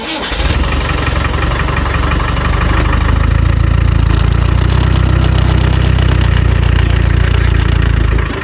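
A vehicle engine on an overland trip turns over and then revs hard and loud, a deep rising roar held for several seconds as muddy tyres spin on waffle recovery boards without gripping.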